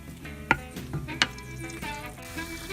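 Anchovies and garlic frying in olive oil in a pan, a steady close sizzle with two sharp pops or utensil clicks early on, alone without voices.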